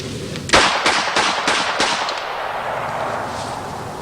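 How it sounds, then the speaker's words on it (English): A gun fired at an outdoor shooting show lets out a series of about five or six sharp, loud cracks spaced roughly a third of a second apart, each decaying quickly into a lingering rumble. "let's shoot it one more time"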